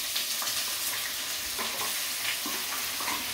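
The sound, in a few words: bay leaf and dried chili frying in oil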